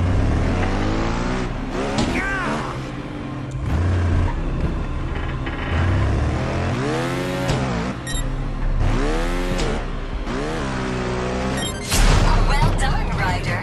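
A motorbike engine in the Trials Fusion video game revs repeatedly, its pitch climbing and falling in quick swells with steady engine drone underneath.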